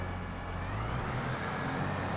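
A tractor engine in Farming Simulator 22 drones steadily as the machine is driven out of the shed, a low, even rumble with a faint whine, at moderate volume and without talk.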